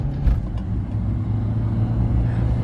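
A Ford Aspire accelerates hard while racing a Hyundai Creta Turbo, its engine a loud, steady, close roar with low rumble that holds without a break.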